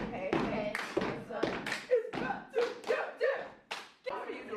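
Stepping-style cheerleading, with a series of sharp stomps and hand strikes landing in a rhythmic pattern, close and punchy, with chanting voices between the hits.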